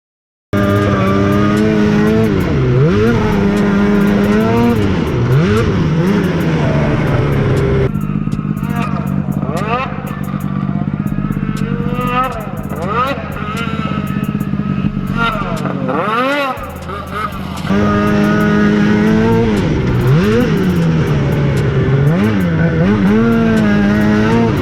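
Snowmobile ridden around a track, engine whining and revving in long rising and falling sweeps, loud and close, easing off midway before revving hard again; voices talk over it.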